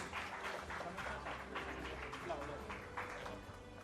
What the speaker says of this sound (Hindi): जोरदार तालियां बजाइए विमल शर्मा जी के लिए।